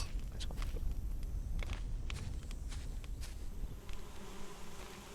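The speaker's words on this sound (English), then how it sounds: "Alright, we got the bees going." Bees buzz in the video game Solarpunk with a low, continuous drone that stays moderately loud, overlaid by soft repeated footsteps and small clicks.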